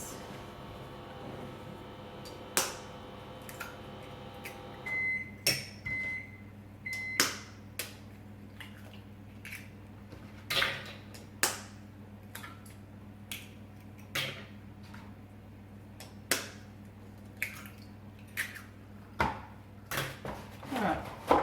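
Four eggs cracked one after another into a bowl for a raspberry cake, sharp separate taps and cracks at an irregular pace over quiet kitchen background hum.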